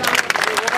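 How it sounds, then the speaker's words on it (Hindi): A crowd at a public gathering claps loudly in a brief, dense burst of applause. "तालियां बजाओ जोर से।"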